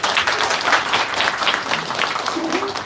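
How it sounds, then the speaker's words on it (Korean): Audience applause at a policy discussion on alternative education, a dense, even wash of many clapping hands sustained for about three seconds, with faint voice traces underneath. "여러분 큰 박수 부탁드립니다."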